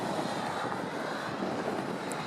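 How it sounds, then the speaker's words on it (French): Airplanes pass high over Aubenas, France, as a faint, continuous engine drone. It sounds distant and steady, with a light airy hiss and no talking. "les avions passent et repassent"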